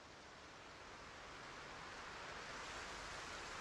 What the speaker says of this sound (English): Right now it's just raining, it's not an actual thunderstorm.